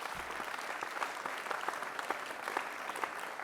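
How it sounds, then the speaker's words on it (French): An audience at a political meeting in La Garenne-Colombes gives sustained, fairly faint applause, a thick and even patter of many hands with no voices standing out. "Alors je vous demande de vous applaudir"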